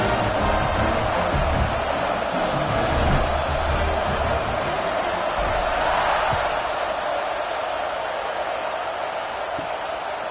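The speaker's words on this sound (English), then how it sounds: "this crowd is buzzing after that last score" After a score at a football game, a large stadium crowd keeps up a dense, steady roar, loud and unbroken, with a commentator talking over it.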